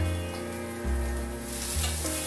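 Hot oil sizzles steadily as spring onion fries in a pan, with a few stirring scrapes and surges in the crackle.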